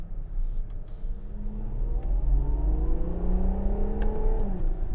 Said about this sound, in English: Let's see when I get onto the highway if I can actually get it to rev around.